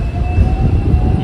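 Steady low rumble and rattle of a Hong Kong city tram rolling along at night, with a thin continuous whine above the rolling noise, heard from inside the car with no talking.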